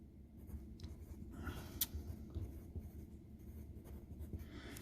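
Pencil sketching center lines on paper, a steady soft scratching of graphite strokes with short pauses between them, close and quiet, with no voices.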